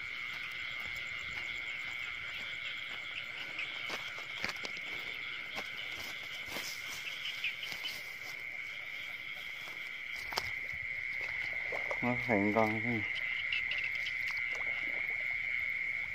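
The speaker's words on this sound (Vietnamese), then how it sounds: "Ếch nhỏ chứ ếch bự là nhiều lắm rồi." Frogs croak at night across a flooded rice field, a steady high chorus with insect chirps, and a burst of louder, closer croaks near the end; a brief spoken word is heard.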